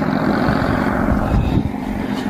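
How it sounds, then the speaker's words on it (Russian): Bikers ride past on a roadside near a phone booth, their motorcycle exhausts giving a steady, loud engine rumble that holds throughout with no talk. "Слышите, да, этот звук выхлопной трубы."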